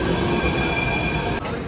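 Delhi Metro train running on its line, a loud, continuous rumble of wheels on rails with a metallic squeal, steady and close throughout and briefly dipping near the end, with no one speaking.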